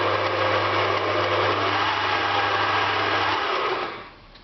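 Electric hand mixer whisking meringue, a steady loud motor whir with a low hum, running continuously and winding down near the end.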